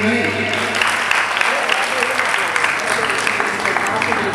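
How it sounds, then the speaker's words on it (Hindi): A crowd at a senior ball badminton championship prize distribution gives loud applause, steady and sustained throughout as trophies are handed over to players. "खिलाड़ियों से अगर जोरदार ताली बजाएंगे।"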